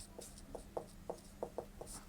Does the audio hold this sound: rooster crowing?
no